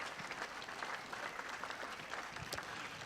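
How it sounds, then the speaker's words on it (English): Outdoor audience clapping for a marimba ensemble at a municipal band concert, a steady, fairly distant wash of many hands that holds evenly throughout. "let's give them an extra round of applause right now"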